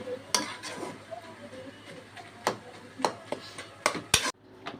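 Cooked water spinach curry with garam masala is served from the pot, with scattered clinks and scrapes of a metal spoon against the pot and dishes, close and intermittent against a quiet room.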